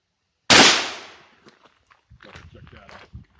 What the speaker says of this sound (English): M1 Carbine, 110 grain at probably about 12 yards.